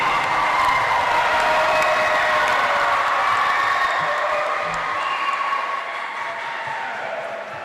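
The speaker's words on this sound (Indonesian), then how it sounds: "kami mohon berikan tepuk tangan yang paling meriah untuk semangat pagi hari ini" Steady, dense applause from an audience at the women's final of a Quran recitation competition (MTQ) in Sanggau, sustained for several seconds and tapering slightly toward the end, with scattered voices within the crowd.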